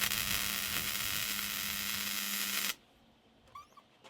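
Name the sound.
plug welding car boot floor panel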